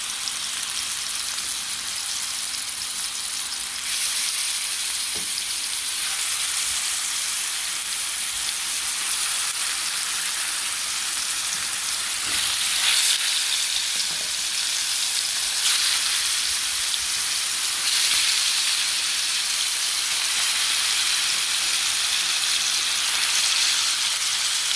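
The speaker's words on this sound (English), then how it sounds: "So I'm gonna be hitting the pan with the meat. That's the sound you want to hear." Chicken meat sizzling in hot olive oil in a pan, a steady bright crackling hiss that holds evenly and close throughout, with faint clicks of movement and no talking.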